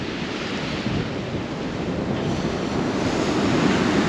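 Waves wash continuously onto the Black Sea shore at Lazarevskoye, Sochi, in a broad, steady roar, with some wind buffeting the microphone and no voices.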